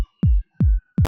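A synthesized kick drum built from a sine wavetable in Serum 2 sounds three times, with deep, punchy booming hits spaced evenly, each short and clean with nothing else around them.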